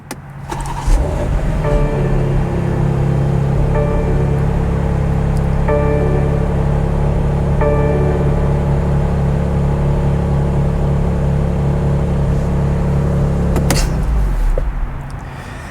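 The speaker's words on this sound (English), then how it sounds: "let's crank the car up for this" A BMW car is started up and left idling, a steady low engine hum that runs for over ten seconds, with repeated chime tones over it, ending with a brief clunk and the engine cutting off.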